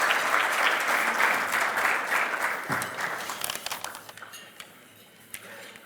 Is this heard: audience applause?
yes